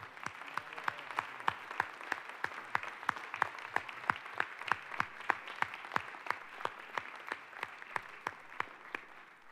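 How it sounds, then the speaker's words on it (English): At an International Day of Non Violence gathering at the UN, the audience claps in a steady, rhythmic beat of distinct, evenly spaced claps, about three per second, fairly faint and distant, for nearly ten seconds. "Can we have a loud round of applause for Mr. Carmen Moore and his group, please?"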